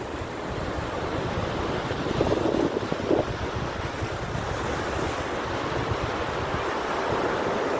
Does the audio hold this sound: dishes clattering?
no